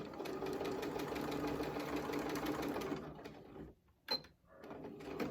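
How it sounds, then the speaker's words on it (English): A sewing machine over-sews the edge of a square-in-a-square quilt block, its steady rapid stitching running continuously for about three seconds, then stopping; afterwards only faint handling noises and a brief sharp click remain. "Now I'm just going to over sew on this one."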